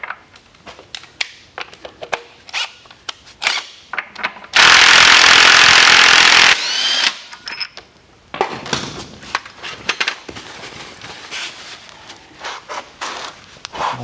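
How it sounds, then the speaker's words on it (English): A wire brush scrubs a GT3 road race motorcycle's aluminum engine cover, key and shaft snout in close, dry scratchy strokes. A loud, steady burst of harsh noise runs for about two seconds midway. "Wire brush,"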